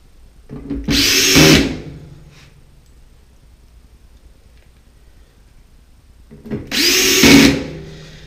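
A power drill drives screws into a Samsung DV45H7000EW/A2 dryer panel during a not-heating repair, two separate loud, close whirring bursts of about a second each with quiet in between.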